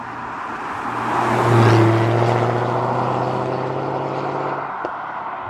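A Jaguar F-Type V8 engine roars steadily, swelling to a loud peak early on, then holding a deep, throaty drone before easing off slightly near the end.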